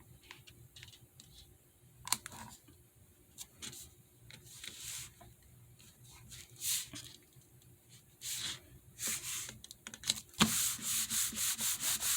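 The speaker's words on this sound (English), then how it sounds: "I'm going to bring in my glue eraser and just see if I can get some of this glue off that's stuck on." A glue eraser rubs stuck adhesive off paper on a scrapbook layout, producing soft scratchy bursts of friction, sparse at first and then faster, with repeated close strokes toward the end.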